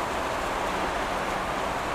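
Steady rain falls around a roadside tea stall, a dense, even hiss of drops on surfaces that holds close and constant throughout, with no voices.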